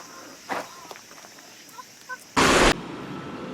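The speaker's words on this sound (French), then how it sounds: "Je crois que c'est les fameuses poules du Japon." Silkie chickens in Wakanoura, Wakayama, Japan cluck and gobble in short, soft calls amid quiet outdoor ambience, broken by one brief loud burst of noise.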